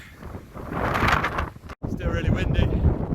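Strong coastal wind buffets the microphone on the Southwest Coast Path, a loud, continuous roar with a brief dropout midway, gusting steadily throughout.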